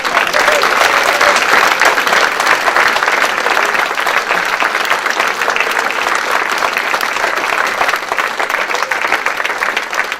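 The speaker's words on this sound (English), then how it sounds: "Round of applause," A crowd applauds loudly and steadily, a sustained burst of clapping that carries through the whole stretch without easing.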